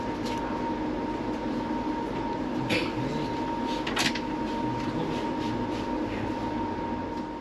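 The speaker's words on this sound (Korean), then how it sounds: "열차는 정시에 출발했고" An overnight sleeper train in Thailand pulls away from the station, a steady interior rumble with a sustained tone, faint clanks and a couple of brief sharp bursts, no talk.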